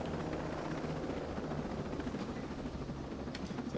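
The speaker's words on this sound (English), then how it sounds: "Wait a minute, why are there 2 helicopters?" Continuous rhythmic thumping of helicopter rotors with an engine whine in the video game Ghost Recon Breakpoint, steady and fairly close, no voices.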